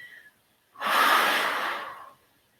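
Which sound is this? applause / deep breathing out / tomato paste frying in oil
deep breathing out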